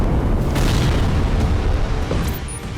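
Russian strikes hitting a Ukrainian army building in Kyiv, a heavy rumbling boom with a dense low roar sustained for nearly three seconds before easing off slightly at the end.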